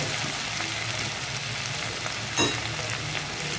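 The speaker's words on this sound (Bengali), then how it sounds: "এবারে ভাজা আলুগুলো আমি ঢেলে দিচ্ছি" Fried potatoes tipped into a hot pan of oil and spices for a prawn and mushroom curry, a steady loud sizzle with a brief clatter partway through.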